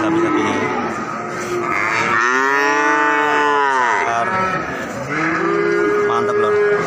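At the Ambarawa livestock market, cattle give a long, loud, rising moo and then a second shorter low call, close by over steady crowd noise from the market.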